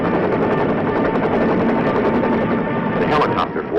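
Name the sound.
military helicopter in flight, Vietnam 1967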